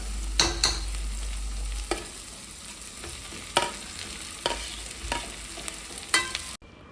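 Chili peppers and tomato frying in a home kitchen pan, a steady soft sizzle with several sharp stirring clacks spaced through it, close and alone with no talk.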